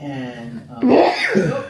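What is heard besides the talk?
sneeze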